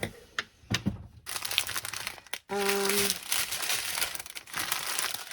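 Crinkling plastic handled close by, steady rustling and crackling throughout with a brief squeak partway, no talking.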